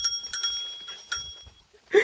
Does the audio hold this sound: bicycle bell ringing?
yes